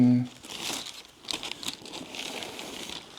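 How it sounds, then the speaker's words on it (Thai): Wrapping paper crinkles and rustles in bursts while a Hermes gift box is unwrapped, close and moderately loud, with a voice briefly at the start. "รีวิวเสียงกระดาษนะคะ"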